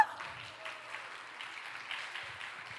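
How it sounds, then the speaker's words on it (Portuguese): Applause for a costumed children's team dressed as insects at a Christian holiday school event: a steady wash of clapping, moderately distant and fairly quiet, running throughout with faint background voices. "Palmas, por favor, uma foto aí para essa equipe linda"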